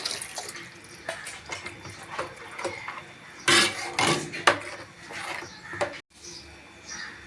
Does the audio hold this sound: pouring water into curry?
yes